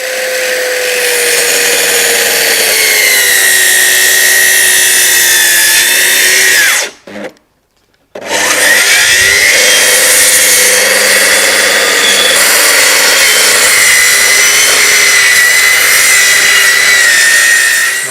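A circular saw runs along a guide rail, whining loudly and steadily through wood decking, stopping briefly for about a second before resuming its continuous cutting roar.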